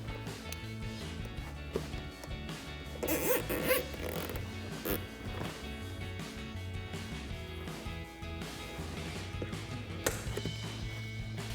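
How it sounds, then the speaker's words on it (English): A plastic zip tie ratchets tight during a front bumper install on a 2018-2020 Ford F-150, with short zipping bursts and light clicks against a low, steady background. "And then we'll zip up our zip tie"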